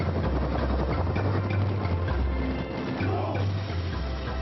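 A rescue helicopter hovers for a winch pickup in a jungle, its rotor and engine giving a steady, loud, low throbbing drone throughout.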